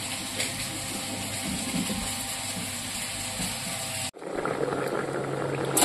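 Running water gushes steadily as bottle gourd stems are rinsed, a close, loud continuous wash that cuts off abruptly and then resumes with a sputtering, uneven flow.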